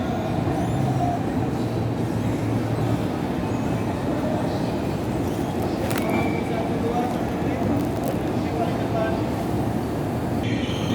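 Jayabaya economy-class train pulling into platform 4 at a station in Jakarta, a steady loud rumble of wheels and engine under echoing station noise, with brief squeals midway and people talking throughout.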